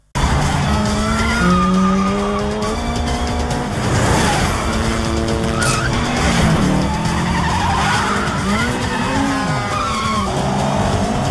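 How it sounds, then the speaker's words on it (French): Car engine revving hard with tires squealing and skidding through a driving chase scene from The Italian Job with Charlize Theron, loud and continuous with rising and falling engine pitch throughout. "petit extrait de Charlize en train de conduire"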